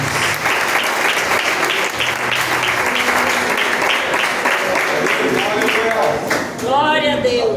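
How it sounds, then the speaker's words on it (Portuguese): A church congregation applauds loudly and steadily for several seconds, a dense, continuous clapping that fills the room, with voices rising over it near the end. "Você pode aplaudir a Deus?"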